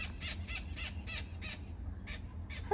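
King parrots calling in a garden, a run of faint, repeated high chirps spaced fairly evenly, with a steady insect-like whine running underneath.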